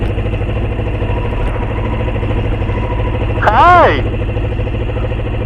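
A motorcycle engine idles steadily in neutral, a continuous low throb running through the whole stretch, while a voice briefly calls out a greeting midway.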